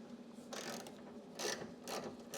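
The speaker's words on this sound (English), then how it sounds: "So you wanna just loosen up the bolts that hold the window on." A 13 mm ratchet with a small extension loosens the bolts holding the window to the regulator inside a Corvette C5 door, giving a few close bursts of rapid clicking separated by short pauses.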